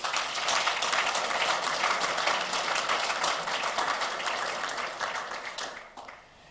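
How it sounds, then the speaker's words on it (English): A large audience at the launch event for a professional women's domestic cricket league applauds in a sustained, even roar of clapping that eases off and dies away near the end. "I will ask that we give them a big round of applause"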